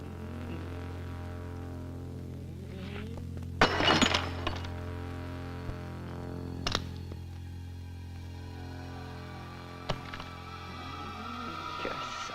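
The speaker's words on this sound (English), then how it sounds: "You're so far gone, you're stepping on broken glass." Footsteps crunch over broken glass in a horror movie: a cluster of gritty crackles, then two more isolated crunches, over a steady low hum.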